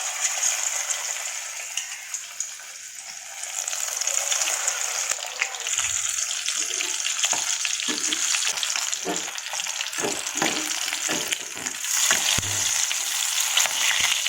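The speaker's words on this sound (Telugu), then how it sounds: "రెండు వైపులా గోల్డెన్ బ్రౌన్ కలర్ వచ్చే వరకు వేయించుకోవాలి." Tiger prawn pakodas fry in hot oil with a continuous bright sizzle and bubbling. Occasional clicks and stirring knocks rise over the steady frying, heard up close with no talking.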